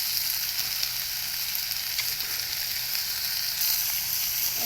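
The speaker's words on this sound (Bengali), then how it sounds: "দেখো আলুটা দিয়ে দিলাম, আলুটাকেও একইভাবে ভেজে নেব।" Potatoes fry in a pan with a steady, even sizzle that stays close and continuous for the whole stretch, with no talking over it.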